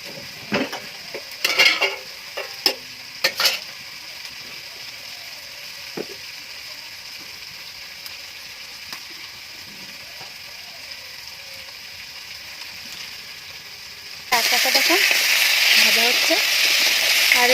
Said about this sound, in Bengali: আমি কিন্তু কম তেলে এই কাঁকড়াটাকে ভাজা করছি